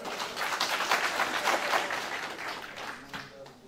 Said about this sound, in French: applaudissez pour les enfants.